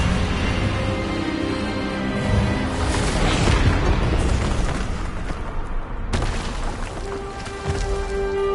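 A spell blast from a wand duel in the Hogwarts Legacy video game, a sustained booming roar with dense crackling layers, loud and continuous across the whole stretch with a brief dip near the end.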